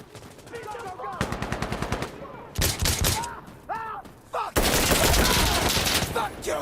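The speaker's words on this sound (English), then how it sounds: "So that automatic fire was intense." Loud bursts of automatic rifle fire in the video game Insurgency Sandstorm, several rapid volleys separated by short pauses, ending in a long sustained burst, close and dominant, with a few voice sounds in between.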